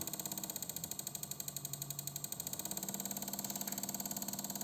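A motorcycle engine running on a custom-built ECU idles steadily, with a rapid, even rhythmic chugging pulse that holds at a moderate level close to the microphone and has no talk over it.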